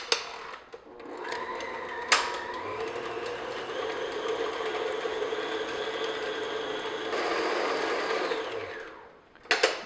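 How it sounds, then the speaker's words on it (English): An electric mixer beating butter in a bowl for cowboy cookie batter, a steady whirring motor drone that starts with a click, runs at a constant pitch for several seconds and then winds down, close and alone. "what I'm going to do is just beat the butter, you know, for a minute or two, just to soften it and make it creamy smooth"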